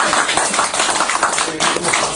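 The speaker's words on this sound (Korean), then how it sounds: "우리 국회의원님한테 박수 한번 일단 쳐주겠습니다" Dense applause from a crowd, a steady clatter of many hands clapping for a couple of seconds.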